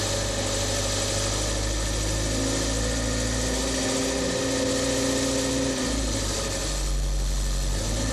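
Ford/Volkswagen Autolatina EFI engine idling while the idle speed actuator is cycled in a test, a steady mechanical hum whose pitch drifts and shifts as the idle speed varies, close and continuous without talk.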